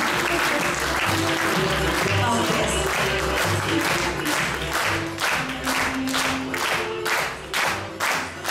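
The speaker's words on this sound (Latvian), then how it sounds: "Skaļi aplausi." Loud, sustained audience applause at a Latvian folk concert honoring a dance group leader, a dense roar of clapping from a big crowd running throughout, with tonal music beneath and a brief spoken word.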